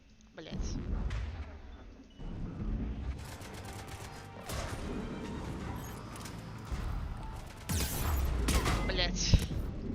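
Rapid bursts of Mass Effect 3 gunfire and booms crackle and repeat irregularly, with a few loud shots and explosions toward the end.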